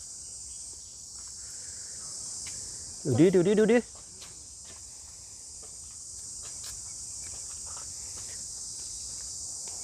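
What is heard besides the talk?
crickets chirping in a park field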